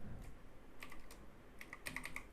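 Keys clack on a computer keyboard during data entry in an Excel spreadsheet, with a couple of short bursts of close, quick tapping separated by a pause.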